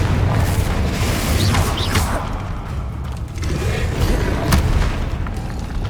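Confringo blasting spells explode in Hogwarts Legacy, heavy booming blasts over a continuous low rumble, with a few sharper cracks and whooshes scattered among them.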